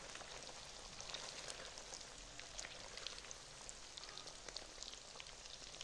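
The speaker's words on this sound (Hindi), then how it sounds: "चिकन को अब यहाँ पे हमने फ्राई करना है इस घी के अंदर" Chicken pieces frying in a pan of hot ghee, a faint, even sizzle and crackle with soft popping that holds steady throughout.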